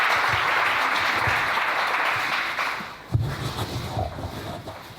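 A church congregation breaks into loud, sustained applause that fills the room, then thins out and becomes more scattered before fading.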